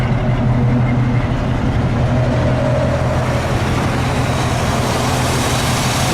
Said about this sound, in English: So it's got a pretty good sound with the Flowmasters.